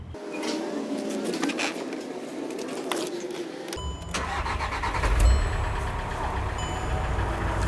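Volkswagen Amarok diesel engine after a clutch and dual-mass flywheel repair, heard close with a clicking, whirring start-up giving way to a steady, low rumbling idle that continues evenly without talk.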